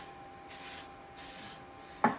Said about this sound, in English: Now I do spray the edges.